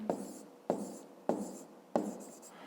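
Pen writing numbers on paper, four quick scratching strokes in a steady rhythm, each a short sharp scrape that fades, close and alone without talk.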